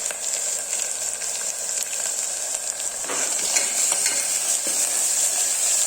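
Oil sizzles steadily in a pan as shallots, ginger, garlic and pepper fry for pepper chicken masala, a loud continuous hiss with a few scrapes of stirring near the middle; no voices.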